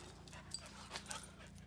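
Two dogs panting quietly in a garage, soft rapid rhythmic breaths with a few faint whimpers and yips, close by and without talk.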